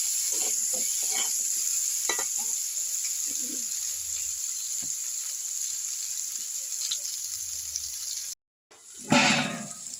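Potatoes fry in hot oil in a wok for a bottle gourd and prawn curry, giving a steady close sizzle with occasional spoon clinks, a brief silence, then a louder burst of hissing.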